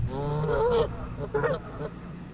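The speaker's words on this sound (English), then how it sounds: "These geese don't want me here." Geese honk by a pond during a March fishing outing: two loud, close bursts of harsh calls about a second apart, then quieter background.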